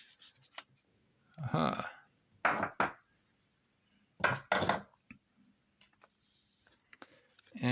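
Pliers snapping a circuit board along a row of holes: a few sharp cracking and crunching bursts with handling rustle between them, close and fairly loud, with a brief spoken interjection.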